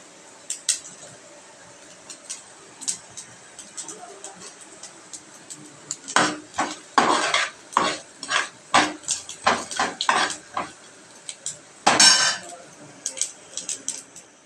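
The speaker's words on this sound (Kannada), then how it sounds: "ಬಿಸಿ ಆಯಿತು ಎಣ್ಣೆ ಸಾಮಾನೆಲ್ಲ ಹಾಕ್ತಾಯಿದ್ದೇನೆ ಸ್ವಲ್ಪ ಬಾಡಿಸಿದರೆ ಸಾಕು" A metal spatula scrapes and clatters against a pan while ingredients sauté in hot oil. A run of sharp, irregular knocks comes after a quiet start, with a final loud burst of scraping.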